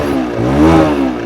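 A Bajaj Pulsar 125 motorcycle engine revs briefly under a blip of throttle, pitch climbing and falling in one quick, close, loud rise with no voices.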